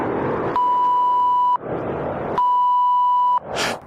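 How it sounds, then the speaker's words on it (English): Two long steady censorship bleeps, each about a second, over a loud broadband rush, separated by a short gap and followed by a brief hissy burst at the end. "We have to put the sound, the beep."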